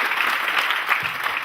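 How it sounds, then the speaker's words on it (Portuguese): A lecture audience at a coaching and mentoring talk bursts into steady, dense applause for a participant, a close wash of many hands clapping with no voices over it. "Palmas para ela."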